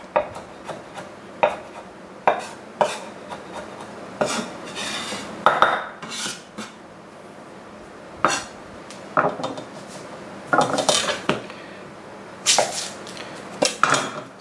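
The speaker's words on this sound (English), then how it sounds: "Gonna give this a little chop." Knife chopping summer squash and fresh garden herbs on a board: a run of sharp, irregular close knocks and scraping cuts spread over the clip, with quiet gaps between bursts and no talking.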